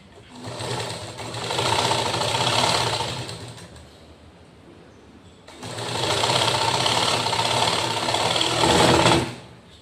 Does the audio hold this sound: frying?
no